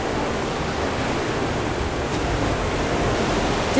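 Roaring torrent of water in Lydford Gorge at the Devil's Cauldron, a loud unbroken churning rush filling the rocky chasm with no break.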